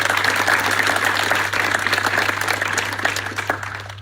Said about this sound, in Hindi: उनका तालियों से स्वागत किया जाए।